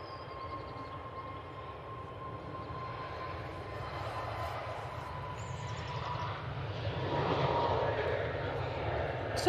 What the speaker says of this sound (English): EasyJet A320 Neo next out to Lanzarote